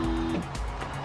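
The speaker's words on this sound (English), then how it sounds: "So you'll hear the fuel pump." An electric fuel pump in a car, filling the carburetors, gives a steady close hum with a faint whine that drops in pitch partway through the brief stretch, with no talk over it.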